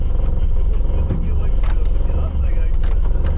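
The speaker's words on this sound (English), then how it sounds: "It's kind of misfiring and it won't idle either." A Vauxhall Nova with a lost gear linkage runs roughly in a low, uneven engine drone that sputters and misfires and will not settle to an idle, heard from inside the car with someone talking over it.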